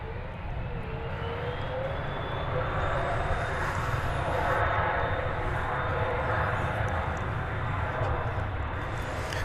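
An airliner, Flight 280 from Seoul, taxis slowly on the ground at a large airport with a steady, continuous engine roar and a faint whine, close and unchanging throughout.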